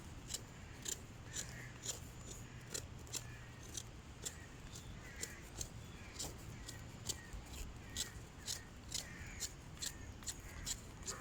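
The top end of a wooden wizard stick is cut and turned by hand, giving a steady series of short, crisp snipping clicks at an even rhythm, close and fairly quiet against a soft background.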